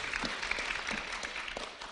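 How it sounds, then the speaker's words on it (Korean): Audience applause at a Seoul social economy ideas contest welcomes a panelist being introduced, a brief, fairly close burst of many hands with scattered sharper claps. "네, 박수 부탁드릴게요."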